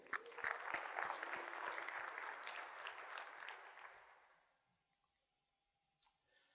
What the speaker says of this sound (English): Hey, round of applause to the community.